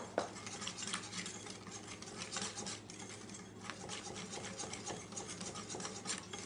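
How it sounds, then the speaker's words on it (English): A whisk beats flour into milk for crepe batter, making a quiet, continuous scraping and rubbing with soft rhythmic taps against the bowl throughout. "Whisk it in."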